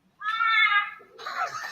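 A strange Australian bird gives a cat-like call: a drawn-out wailing meow-like tone followed by a rougher, noisier second note, close and clear with no talk over it.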